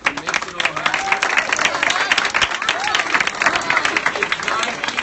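Crowd applause at a children's theatre meet and greet for a youth production of Annie Jr, dense steady clapping with some cheering and crowd babble.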